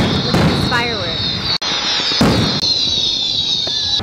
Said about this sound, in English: Look at these fireworks.